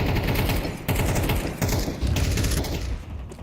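Rapid gunfire bursts in Counter-Strike, spawn shots rattling out in dense fast strings, loud and close, broken by short gaps and trailing off at the end.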